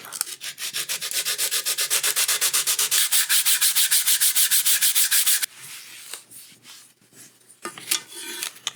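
Dried glue is rubbed off a guitar fretboard, first as a fast, even series of loud back-and-forth scrubbing strokes, then as slower, quieter scattered rubs and scrapes.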